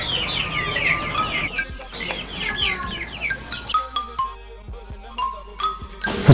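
Chickens cluck and squawk close by in a busy, overlapping chorus of short calls, a rooster-like cry standing out among the hens, with sporadic thumps and rustling and no talk.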